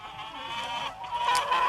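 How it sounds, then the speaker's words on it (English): A sound effect of chickens clucking plays: a short run of fowl clucks and calls, close and clear, with no talking over it. "That's when the chickens should come in."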